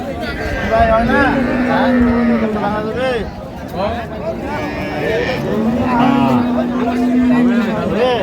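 Dairy cows and calves at the Ambari cattle market in Dinajpur, with two drawn-out low moos rising over busy crowd chatter and nearby talking.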